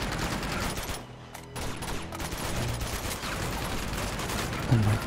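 Gunshots ring out in the video game Uncharted 2: Among Thieves as a dense, continuous volley of fire, fairly quiet in the mix, with a short lull early on.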